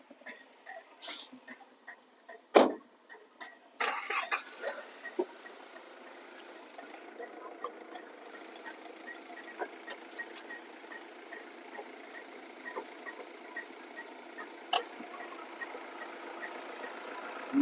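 A 2010 Hyundai i20 with about 140,000 km cranks with a short burst, then settles into a steady, fairly quiet idle with light ticking, heard close with brief clatter near the start and no talk over it.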